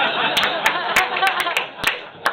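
At a comedy show in a brewery, an audience cheers with a noisy crowd roar, broken by scattered sharp claps over about two seconds.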